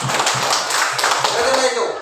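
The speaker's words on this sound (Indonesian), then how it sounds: "Tepuk tangan." Hand clapping from a small group in a classroom lesson, a quick series of sharp claps repeating steadily for about two seconds amid room noise and faint voices.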